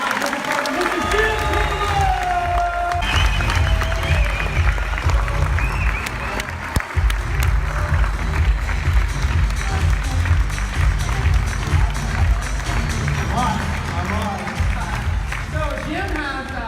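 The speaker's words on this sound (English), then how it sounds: "can you guys give me a good round of applause for my business partner, Mr. Jim?" Audience applause fills the room continuously, steady clapping with crowd noise sustained for over fifteen seconds, moderately loud and close.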